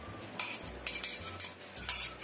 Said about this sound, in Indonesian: Kita goreng orak-arik.